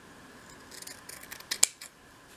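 Scissors trim fabric-covered wadding for a dolls' house piece: a few quiet, close snips in a loose sequence, one sharper cut standing out, in a calm indoor setting.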